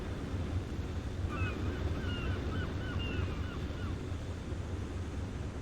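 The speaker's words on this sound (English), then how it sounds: "A graceful seagull." A seagull calls a few times, faint and distant, over a steady wash of ocean waves and wind in the naval submarine game Silent Hunter 3.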